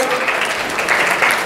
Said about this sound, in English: A big round of applause for all of our awardees here this evening